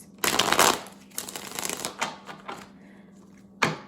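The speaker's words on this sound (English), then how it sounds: "Shuffling is so hard for me, dude." A tarot deck, a cosmic tarot, is shuffled by hand in close, crisp bursts of riffling cards, with a loud flurry near the start, softer intermittent shuffles through the middle and another quick burst at the end.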